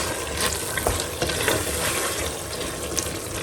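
Chicken liver and onions fry in oil in a pan, giving a steady, dense sizzle with scattered crackles and pops at close range, with no voices.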